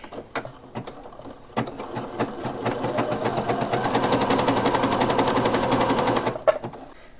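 A household sewing machine stitches a zigzag in one sustained run. Its rapid, even clatter builds up loudly for several seconds and then stops, with a few isolated mechanical clicks before and after.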